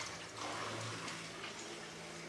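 Water recirculating through the pipes of a boiler system before firing, a steady, even hiss and rush of flowing water that holds constant throughout.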